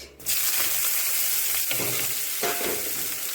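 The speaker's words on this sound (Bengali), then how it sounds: "পেঁয়াজটা এখন আমি ভালো করে লাল লাল করে ভেজে নেব।" Onions frying loudly in hot oil, the oil already seasoned with cumin, bay leaf and dried red chilli after potatoes were fried in it: a dense, steady sizzle that starts sharply after a brief quiet moment, with occasional stirring scrapes.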